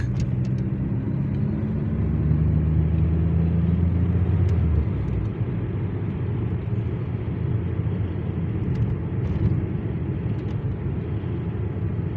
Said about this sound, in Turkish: Trafik çok karışık.